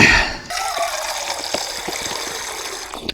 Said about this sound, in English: so let's get some water in the pot